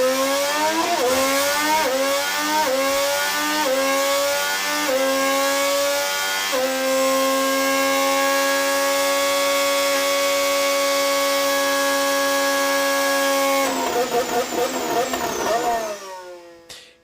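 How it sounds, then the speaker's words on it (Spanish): Honda's 2026 Formula 1 power unit revs hard alone, climbing through rapid upshifts in a rising whine, holding a sustained high-pitched scream, then blipping through downshifts before cutting off. "han sido los primeritos en enseñar o hacernos escuchar el sonido de su motor para el año 2026 y sonaba así."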